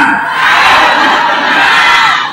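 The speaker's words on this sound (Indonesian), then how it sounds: "Adik-adik muda kasih tepuk tangan yang meriah buat Opung." A church revival audience applauding and cheering, a loud, dense burst of crowd noise with shouts and whoops that swells and holds for a couple of seconds.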